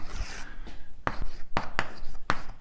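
Chalk or marker writing on a board during a cosmology lecture, several short distinct scratchy strokes in quick succession, close and fairly loud, with no talk over them.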